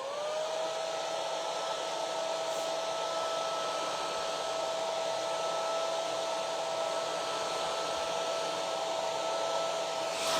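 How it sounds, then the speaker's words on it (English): A hair dryer blows continuously with a steady whine and airy rush, close and even from start to finish, no talking. "we'll just hit that with a hairdryer real quick."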